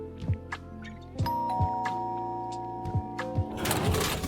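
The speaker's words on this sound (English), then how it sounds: "Doorbell rang." Doorbell in the video game Asocial Giraffe, a bright chime ringing out in a few repeated dings with sustained tones over game music, followed by a burst of clattering noise.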